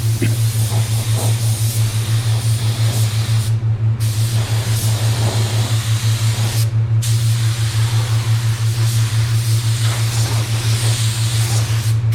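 A spray gun lays water-based paint on a car bumper in a two-tone job, with a loud continuous hiss over a steady low hum that breaks off briefly twice.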